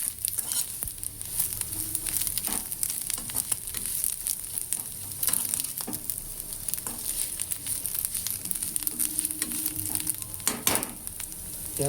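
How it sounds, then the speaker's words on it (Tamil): Dried anchovy fish deep frying in hot oil until crispy, giving a dense, continuous crackling sizzle with scattered pops, close and steady throughout. "நல்லா டீப் ஃப்ரை பண்ணிங்கன்னா மொளன்னு ஆகிடும்"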